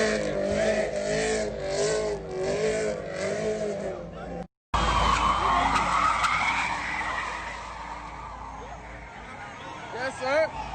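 Cars spin donuts on the I-55 highway, with long tire squeals and skidding over engine revving. A brief cut breaks the sound, then the squealing and engine noise carry on at a steady level, mixed with crowd noise and voices.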